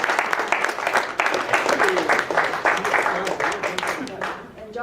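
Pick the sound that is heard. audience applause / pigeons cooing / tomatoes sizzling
audience applause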